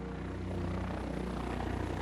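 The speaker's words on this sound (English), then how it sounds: "with light planes spraying disinfectant over the rubble." Light planes spraying disinfectant over cyclone rubble, heard as a steady, fairly loud engine and propeller drone with a pulsing throb that holds constant throughout.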